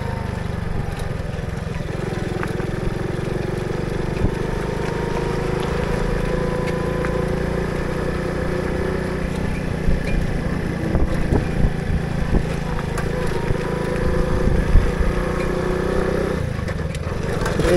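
An Orion 50 moped engine drones steadily while riding, a loud continuous buzzing hum with slight rises and wind roar throughout.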